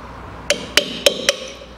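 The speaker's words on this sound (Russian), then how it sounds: "попробую просто чисто механически, зубило и молоток" Four sharp metallic taps from a hammer on a chisel, evenly spaced and close by, with a faint ringing tone after each strike, struck at a glancing angle while fitting front air spring dust boots on a Land Rover Discovery 4.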